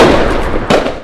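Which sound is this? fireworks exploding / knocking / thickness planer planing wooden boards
fireworks exploding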